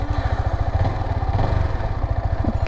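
A Yamaha R15 V4 motorcycle being ridden, its engine thrumming steadily with a rapid low pulsing, loud and close, with no talking.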